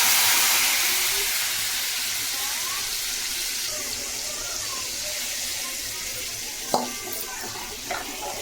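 Tamarind water poured into a hot pan hisses and sizzles with a steady simmering wash that slowly fades, broken by a couple of sharp utensil clinks near the end.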